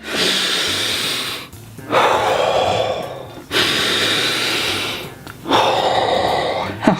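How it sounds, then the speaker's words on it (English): Loud, close deep breaths come in a slow rhythm of three long, heavy exhalations, each separated by a brief quiet pause. "Give me a second while I take a deep breath."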